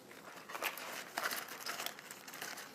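A knife slices through the base of a big head of romaine lettuce, giving a few faint, crisp crunching snaps over quiet background hiss.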